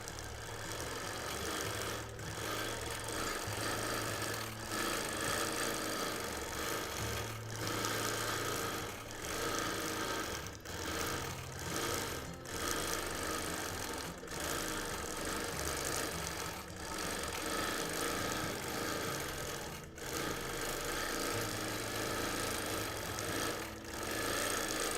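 Sewing machine running with a stitch regulator during free motion quilting on a baby quilt, a loud continuous motorized whir with fast steady stitching and a few brief dips.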